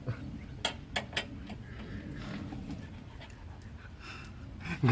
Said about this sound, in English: Every time it's the dogs.